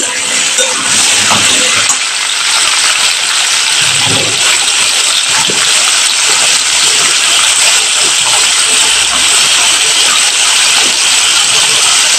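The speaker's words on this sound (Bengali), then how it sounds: "এবার কুমড়োটা তেলের মধ্যে একটু ভালো করে নিই" Pumpkin pieces fry in hot oil, producing a loud, constant broadband sizzle with a few low dull knocks from the pan underneath.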